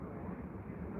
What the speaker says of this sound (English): you got the unmistakable 777 making its way to the runway